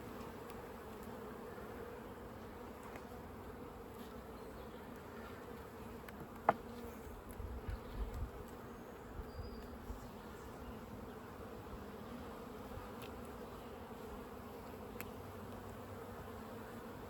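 Honey bees buzzing steadily around an open beehive during an inspection, a soft, continuous low drone close by with one brief knock partway through.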